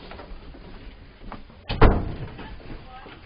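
A door opens indoors with a brief thump and rattle partway through, while people talk and move about nearby.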